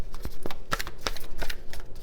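A deck of sticky-coated tarot cards being shuffled by hand: a quick run of close, crisp riffling flicks and slaps in an uneven rhythm.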